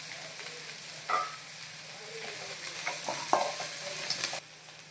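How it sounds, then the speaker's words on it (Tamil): Chopped onions with curry leaves fry in a pan, giving a soft continuous sizzle broken by a few scraping stirs, close and moderately quiet. "வெங்காயத்தை போட்டு வெங்காயம் வதக்கிட்டே இருக்குது. கருவேப்பிலை போட்டுக்கலாம்."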